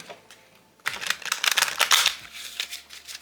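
A deck of tarot cards is shuffled close up, starting after a quiet moment with dense, crisp riffling and flicking that carries on steadily and loudly to the end, with no speech.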